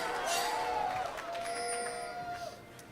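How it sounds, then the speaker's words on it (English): Crowd cheering at a League of Legends LCS esports match, CLG versus Cloud 9, with a broad roar of an arena audience and rising whoops, fairly distant and sustained, easing slightly near the end. "the crowd cheering for CLG's great vision control"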